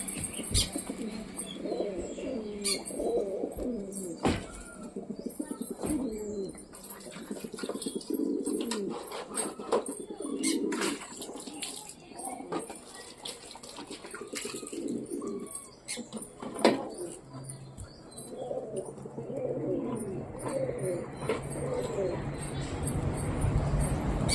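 Pigeons coo steadily throughout, soft repeated throaty calls with occasional chirps and wing flutters nearby.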